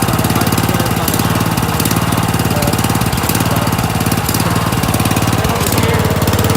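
An old lawn tractor engine runs loud and steady, with a fast mechanical chatter and a rough knocking pulse that never lets up, close to the listener and with no voices.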